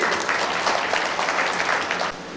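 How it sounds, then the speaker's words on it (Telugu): Rally crowd claps in a dense, sustained burst of applause that fills the space, fairly loud and steady before tapering slightly at the end. "కాబట్టి ఉషన్కి అందరూ ఒకసారి చప్పట్లు కొట్టండి."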